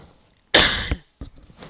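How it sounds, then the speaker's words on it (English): A single sharp cough bursts out close to the microphone, followed a moment later by a softer trailing cough and a throat sound in an otherwise quiet room. "Sorry about that coughing"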